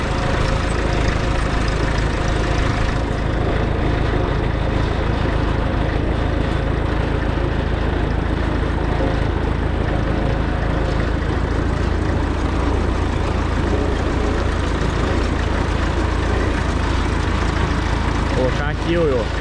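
A tractor engine drones steadily and loudly while a blade levels soil, its low rumble continuous under occasional talk.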